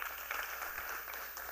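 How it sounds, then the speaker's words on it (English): Applause from an audience at a youth town hall, a steady broadband clatter of many hands sustained throughout at moderate level, with no voices standing out. "Clap for her."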